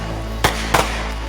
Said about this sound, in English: let's let you look at more of the fireworks